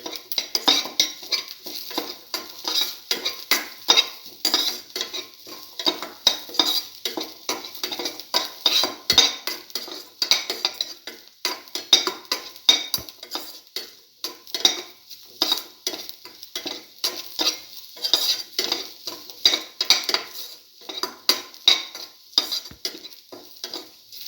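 Eggs and aromatics sauté in a pan for a scrambled egg and tomato stir fry, a soft sizzle under rapid, rhythmic clinks and scrapes of a metal utensil stirring against the pan.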